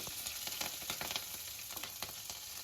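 Mustard seeds, cumin and chana dal frying in hot oil for a hotel-style dondakaya kaju fry, a steady close sizzle with scattered crackling pops throughout, no voices.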